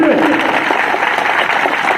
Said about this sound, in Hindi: सभी के हाथों से तालियां गूंजनी चाहिए